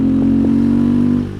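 A 2024 KTM 390 Adventure engine hums steadily and close while riding over cobbles, a loud even single-cylinder tone with faint clatter, easing off at the end.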